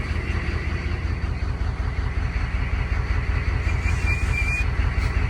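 A truck's straight-pipe exhaust idles just after a cold start, a steady loud rumble with constant low pulsing and no talk over it.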